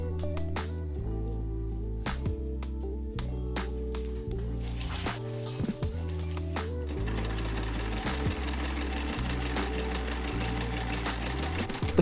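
A sewing machine stitching fabric for a camera bag, fast rhythmic mechanical chugging in bursts with brief pauses between runs, close and steady, no talking.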